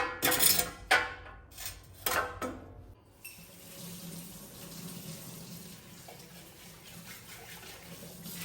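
A kitchen tap running into a sink while water in a money plant jar is changed: loud bursts of gushing water in the first three seconds, then a quieter, steady trickle and faint clinks of the jar.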